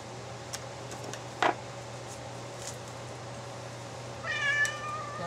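A cat meows softly in a workshop where a coyote hide is being prepared for taxidermy, with a brief short call mid-clip and a longer, rising meow near the end over a steady low hum.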